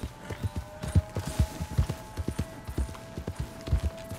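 Horse hooves clip-clop in a quick, uneven rhythm in Red Dead Redemption 2 on Xbox One X, close and clear with a low engine-like hum behind.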